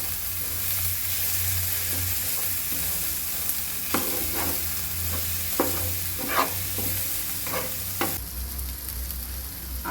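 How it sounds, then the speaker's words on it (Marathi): Chickpea curry ingredients sauté in a hot pan for a home-style Maharashtrian dish, giving a steady loud sizzle with several sharp spoon scrapes and knocks against the pan in the second half, with no talking. "हे आपण असं थोडं परतून घेऊया"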